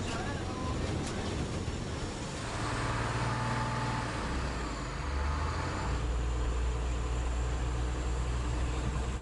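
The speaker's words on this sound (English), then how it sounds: "They are semi-trailer trucks that have been retrofitted into buses, capable of carrying hundreds of passengers at a time." A Cuban semi-trailer truck converted into a passenger bus rumbles along with a steady low engine drone and broad road noise, loud and continuous, its pitch shifting as it moves.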